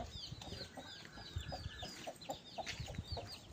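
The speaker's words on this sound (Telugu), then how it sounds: "ఇవి ఆ చిన్న కోడి పిల్లలు, చాలా క్యూట్గా ఉన్నాయి కదా." Small chicks clucking and peeping in a village yard, a busy cluster of high, chirpy calls repeating steadily at close range with soft scuffling underneath.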